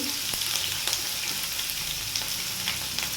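Onions frying in hot oil for onion fritters in a home kitchen. A continuous crackling sizzle runs throughout, broken by scattered sharp pops and occasional stirring clicks, with no voices.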